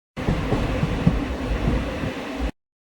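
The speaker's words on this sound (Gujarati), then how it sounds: "અમે ટ્રેનમાં ચડી ગયા છે ડાયરેક્ટ" A train on the Veraval to Mumbai route rumbles along steadily, a loud continuous roar of wheels on rails from inside or very near the carriage, with no speech.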